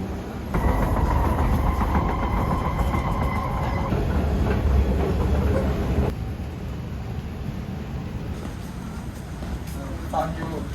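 Steady rumble of a train rolling along rails, with faint rhythmic clatter and murmuring voices in the carriage; the noise drops slightly partway through.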